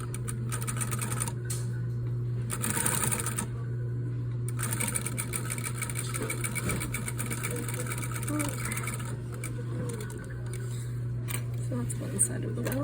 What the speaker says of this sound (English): So I'm gonna stitch exactly on that stitch line that I did before.